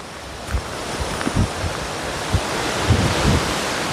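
Strong wind roars against the microphone on Mount Makiling. It is a constant broadband rush with repeated low buffeting gusts.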